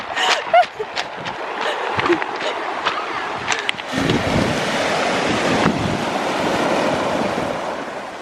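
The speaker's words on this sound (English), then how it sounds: "Listen to them waves." Ocean waves surge in on the Pembrokeshire coast in South West Wales, a broad rushing wash of surf that swells and holds, with wind buffeting the microphone and a few clicks before.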